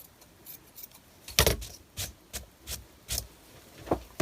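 Scissors snipping off excess paper while assembling a junk journal ephemera album, a series of short sharp cuts near and alone, one louder cut followed by several lighter ones at uneven intervals.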